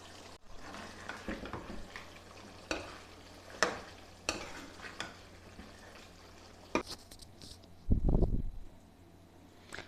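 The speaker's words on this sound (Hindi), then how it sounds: "और मिक्स करेंगे अच्छे से इसको।" Chicken curry with garam masala is stirred in a pot, giving intermittent scraping strokes over a faint sizzle, with one louder burst of clatter near the end.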